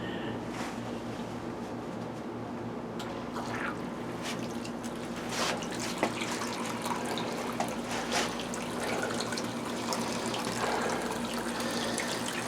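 Water is poured into a sump pump basin, a steady faint trickle and splash with occasional drips, heard alone at close range.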